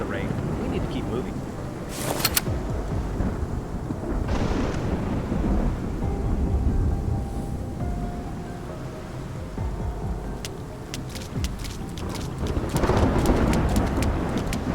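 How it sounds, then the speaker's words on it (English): Steady rain falls through a night scene in the video game Love and Deepspace, with low rumbles of thunder and a few sharp cracks rising over it. Voices talk quietly throughout. "It's just the rain."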